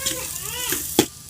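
Spicy chutney hits hot oil for Kolhapuri misal and sizzles in a short, close crackle, with a sharp pop near the end. A voice talks faintly underneath.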